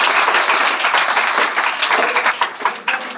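A crowd applauds a student topper at an award ceremony, with dense, loud clapping that thins into scattered individual claps near the end.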